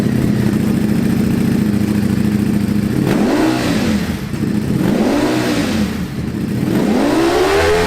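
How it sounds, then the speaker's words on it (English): Ducati Streetfighter V4S motorcycle with a full Akrapovic exhaust system, first holding a loud, steady high idle, then giving three sharp revs that rise and fall back in turn, close by and heard on their own. "you can add a full Akrapovic exhaust system to this bike. Let's all take a second and listen to what that sounds like"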